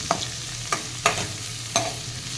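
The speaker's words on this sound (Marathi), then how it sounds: "शिमला मिरची घालूया आणि ती पण दोन ते तीन मिनटं छान परतून घेऊया" Capsicum sautés quietly in a pan, with four separate spoon scrapes spaced about half a second apart over a low, steady sizzle, close by and soft, with no voices.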